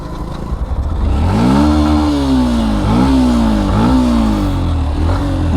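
A motor vehicle, likely a motorcycle or small car, roars up suddenly and passes very close and loud, its engine pitch rising and falling in repeated revving sweeps.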